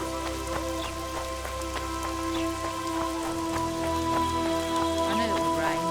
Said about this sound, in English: I knew it would rain.